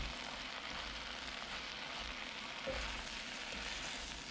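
Cabbage and seasoning sizzle steadily as they cook down in a stew pot, a soft continuous frying hiss with faint crackles throughout and no talking.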